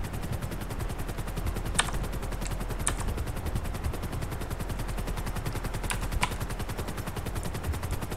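Rapid pistol fire from a car's passenger seat in GTA 5 Online rattles continuously, dense fast shots with a few sharper cracks standing out over a constant loud rumble.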